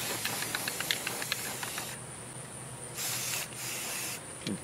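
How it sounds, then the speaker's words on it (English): Spray paint hisses from a can onto a trap, underside and levers included, in a few sustained bursts of steady hiss with short pauses, after some light ticking at the start. "I'm gonna take it and I'm gonna spray paint almost the entire trap"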